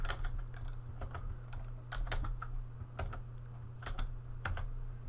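Values typed on a computer keyboard in video editing software, a steady run of close, crisp key clicks with a few sharper taps standing out over a low constant hum, no voices.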